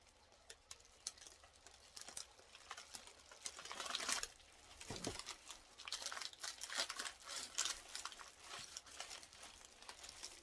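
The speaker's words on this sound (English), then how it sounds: "Now for the cut. I made my own cutter." Hot process soap being cut into bars with a homemade cutter, heard as a quiet run of ticking and crackling contact noises that builds into denser scraping, with one duller thud near the middle.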